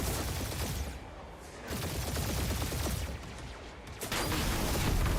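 Dense video game gunfire pours out in a continuous rattling fusillade, loud and close, with brief dips before the shooting surges back.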